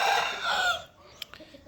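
An Amroha aseel rooster gives a loud, close crowing call through the first part of the clip, then fades to quieter clucks and a few soft knocks.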